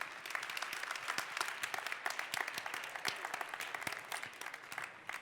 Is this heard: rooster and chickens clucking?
no